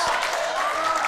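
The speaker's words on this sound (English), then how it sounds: "you can hear the crowd support" Weightlifting competition crowd cheering and clapping in a large hall, a loud continuous roar with a whistle-like tone over it, brief and sustained.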